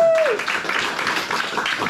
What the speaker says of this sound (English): Round of applause for Pierce